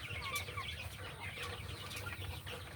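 Chickens clucking and squawking in a steady, busy stream, fairly close, over a low rumbling background.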